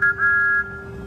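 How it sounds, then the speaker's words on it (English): A short, clear steam locomotive whistle toots twice, high and steady, the second blast longer, fading into a low hum. "He tooted his best friend's whistle."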